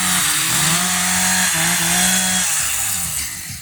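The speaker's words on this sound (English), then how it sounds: "Now I'm going to let these guys warm up their chainsaws just one more time." Several chainsaws revving together as lumberjacks warm them up at a strawberry festival lumberjack show in Farmington, Iowa: a loud, continuous buzzing drone with shifting engine pitches, no talk.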